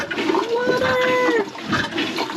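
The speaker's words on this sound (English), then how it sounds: "We are flushing the toilet." A boat's marine toilet in Antigua, with its pump just replaced, flushes with a short, close gush and gurgle of water while a voice speaks briefly over it.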